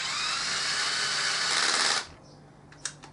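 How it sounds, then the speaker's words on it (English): A power drill on its lowest setting turns the clutch of a Triumph Tiger 800XC motorcycle during an overhaul, giving a steady whirring whine for about two seconds that then stops, followed by a faint click or two. "I'm going to stick in a drill, put it on the lowest setting going, number 1."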